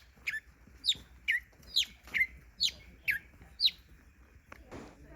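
Galapagos mockingbirds singing near the boardwalk to Tortuga Bay, a series of about eight sharp, bright whistled notes spaced roughly half a second apart, clear and fairly close over quiet background.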